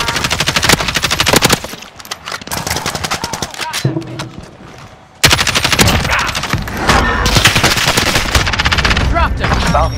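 Call of Duty Modern Warfare gunfire, rapid machine-gun bursts and dense volleys of shots crackling almost continuously, loud and close, with a brief lull before heavier fire resumes.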